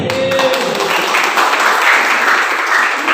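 An audience at a Pi Network gathering in Purworejo, Indonesia, claps continuously, a full, even burst of applause that is loud and sustained for the whole few seconds.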